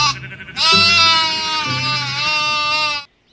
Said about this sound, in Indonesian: Ini domba.